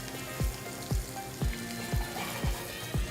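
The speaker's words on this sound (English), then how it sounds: "Nice to get it in there into the sizzling oil" A quinoa-kale pancake fries in hot olive oil with a quiet, steady sizzling hiss, marked by a soft low thump about every half second.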